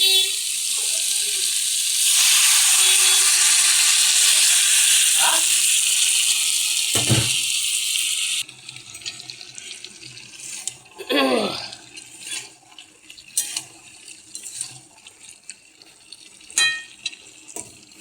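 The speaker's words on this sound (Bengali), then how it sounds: "মশলাটা মেশানো হয়ে গেছে, এবার আমি জল দিয়ে দিই।" Water poured into a spiced prawn curry, a loud broad rushing pour for several seconds, then it stops, followed by quieter scattered clinks and bubbling from the pot.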